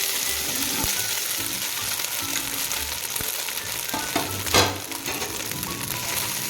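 Garlic idli upma frying in a nonstick pan, a steady broadband sizzle with scattered spatula scrapes and knocks as the idli pieces are stirred, one louder scrape near the end.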